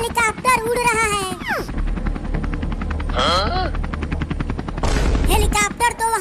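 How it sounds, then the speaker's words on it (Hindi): A helicopter landing in a park, its rapid rotor chop thudding steadily throughout, with cartoonish voices and sliding tones layered over it and a low rumble swelling near the end. "हेलीकॉप्टर तो वहाँ पार्क में उतर रहा है।"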